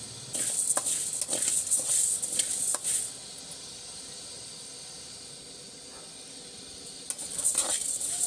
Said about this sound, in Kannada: ಸೀದಾ ತೊಗರಿ ಬೇಳೆ ಹಾಕ್ಕೊತಾ ಇದ್ದೀನಿ